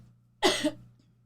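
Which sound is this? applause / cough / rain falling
cough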